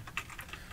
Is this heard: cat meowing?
no